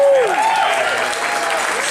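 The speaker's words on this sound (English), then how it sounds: "And a big round of applause for Sarah." An audience at a real estate summit applauds for a volunteer, a dense, steady wash of clapping with a brief voice over its start, holding loud throughout the short burst.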